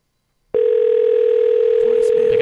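A telephone dial tone starts abruptly after a short silence and holds as a loud, unbroken steady hum while a call is placed during a live radio-style call-in show. No ringing follows within the clip.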